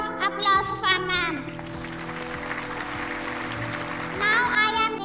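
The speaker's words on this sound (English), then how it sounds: "A big round of applause for ma'am." A crowd of students and staff claps at a morning school assembly. The dense applause starts at once and fades within a second or two, and a voice speaks over a loudspeaker before the clapping swells again near the end.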